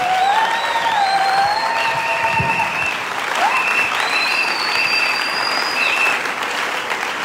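A church congregation claps and cheers loudly and steadily, with sustained applause while a high electronic keyboard or organ melody plays over it.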